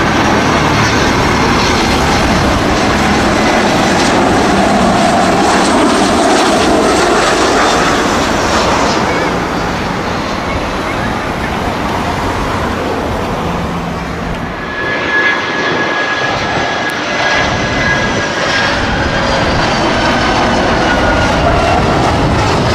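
A blue airplane in flight makes a loud, continuous engine roar that swells and eases slightly over a long stretch, with no one talking.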